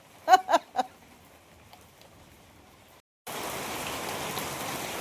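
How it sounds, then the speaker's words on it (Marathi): A few soft vocal sounds, a short pause, then a dense steady patter of heavy unseasonal March rain drumming on a metal sheet roof, fairly close and continuous. "पाऊस एवढा मोठा पडतोय, पत्र्याचा आवाज येतोय का तुम्हाला?"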